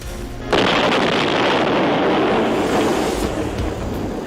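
A sudden loud roaring blast from the Castle Bravo hydrogen bomb test at Bikini Atoll in 1954, a 15-megaton device, which breaks in after half a second of quiet and keeps up as a sustained, rumbling broadband roar to the end.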